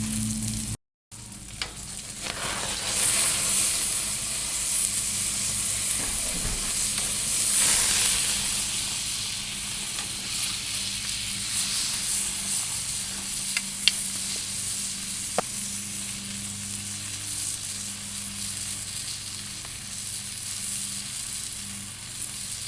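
Rib-eye steak sizzles steadily on the MMM-Grill with butter melting on top, a continuous close frying hiss with small crackles and pops throughout and no talking.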